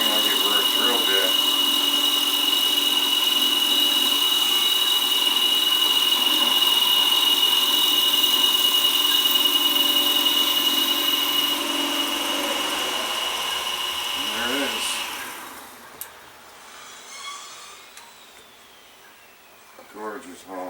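A boring head is hand fed into metal to bore a hole, producing a steady high machining whine and hum that runs loud and unbroken for about fifteen seconds before winding down into quieter clicks and handling noise.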